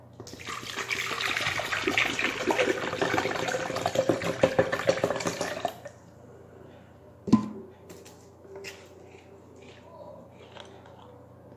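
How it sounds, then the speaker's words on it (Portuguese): About 500 ml of water is poured into a container holding 25 g of juice powder, a steady splashing pour lasting around six seconds that then stops, followed by a single clunk and a few faint small knocks. "e adicionar os 500 ml de água."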